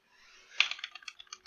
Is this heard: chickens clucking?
no